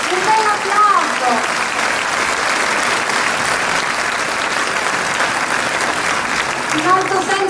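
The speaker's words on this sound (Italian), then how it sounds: "Un bel applauso." Theatre audience applause at a school choir and youth orchestra concert, a loud, sustained roar of many hands clapping evenly throughout, with faint voices briefly audible at the start and end.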